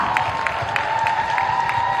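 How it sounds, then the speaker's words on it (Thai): Audience applause for actor Mario at a gala event for the Thai film Rider, a steady patter of clapping from a crowd with a faint constant tone underneath. "ปรบมือดังๆให้คุณมาโยค่ะ"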